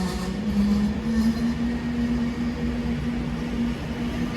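A train at Crewe station rumbles steadily while a thin, sustained brake squeal whines above it for several seconds.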